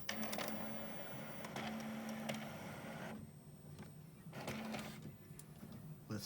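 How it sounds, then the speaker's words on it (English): Inkjet printer printing an album cover directly onto a CD loaded in its tray: a quiet mechanical hum with short motor whirs and clicks, a pause, then renewed whirring as the tray moves. "And then it's going to go ahead and start printing."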